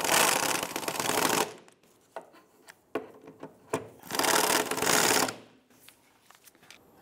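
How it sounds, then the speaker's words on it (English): Bolts on a rear strut bracket of a 2005-2007 Ford Five Hundred are run down with a power ratchet in two loud buzzing bursts, separated by sharp metallic clicks and clanks of tool handling. "We'll line up our bracket and we'll tighten down these 2 bolts here."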